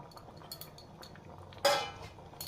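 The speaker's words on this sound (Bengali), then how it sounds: "দিয়ে ভালো করে নাড়িয়ে নিচ্ছি" A spoon scrapes and clinks against a pot while dal tarka with egg and coriander is stirred, quiet at first, then a brighter metallic clatter near the end.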